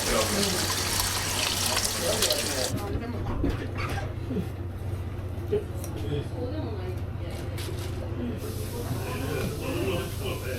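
Tap water runs in a strong hissing stream over ingredients being rinsed in a restaurant kitchen sink, steady throughout, with people talking over it.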